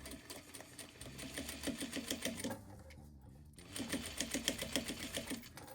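Close, steady chattering whir of a domestic sewing machine back stitching beside a zipper on a fabric pouch, rhythmic needle thumps running evenly with a short pause in the middle before stitching resumes.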